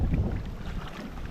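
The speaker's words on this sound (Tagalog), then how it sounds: "Ang maririnig na naman po nila yan ay yung hangin." Strong wind rushes outdoors beside flowing water on a fishing trip for giant snakehead fish, rumbling low against the microphone and steady but somewhat faint, with no talk.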